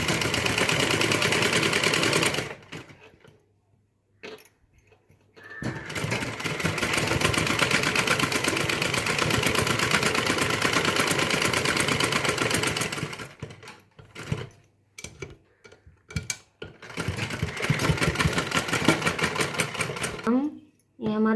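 A sewing machine stitching a blouse runs in long steady bursts of fast mechanical whirring, stopping and restarting, with someone talking during the pauses.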